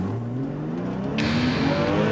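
A sports car speeding at about 120 miles an hour across rain-soaked test-track tarmac, a steady engine drone under a hiss of tire spray that suddenly grows louder and brighter partway through, with no voices.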